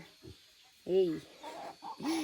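A few short hen clucks and squawks sound close by, separated by brief pauses, with faint background noise between them.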